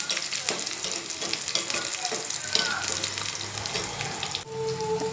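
Garlic and green chillies frying in a pan for a fenugreek leaf dish, a steady close sizzle with stirring scrapes and clatters, briefly joined by a faint tonal kitchen sound near the end.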